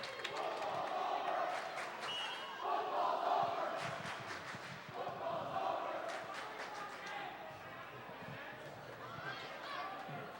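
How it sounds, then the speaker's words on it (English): A gym crowd at a high school district semi-final volleyball game cheers and yells in loud surging waves, with shouts and chatter rising and falling between rallies. "Crowds are going at it pretty good"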